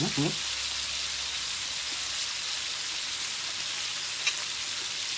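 Steady crackling sizzle of bangus (milkfish) frying in hot oil, continuous and close, with a faint clink near the start.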